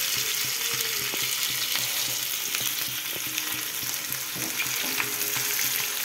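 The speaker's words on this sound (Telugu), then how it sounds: "ఆయిల్ వేడెక్కాక అయితే కొన్ని ఆనియన్స్ వేస్తున్నాను. ఇది ఫ్రై చేసుకోవాలి" Onions crackle and sizzle steadily in hot oil for a fish biryani, a dense close frying hiss with occasional stirring clicks and no voices.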